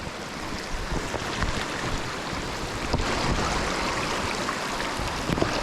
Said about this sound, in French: Je vais traverser le petit ruisseau.